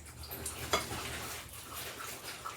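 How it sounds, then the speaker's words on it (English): Corn fritter batter drops into hot frying oil, giving a faint soft sizzle with light scraping and spoon-against-pan clinks, a few small sharp ticks over a low, steady hiss. "drop it by spoonfuls into our hot oil"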